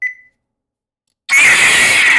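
Lightsaber sound font switching: a short beep, then a brief silence and a loud steady electronic hum as the new font ignites, close and alone.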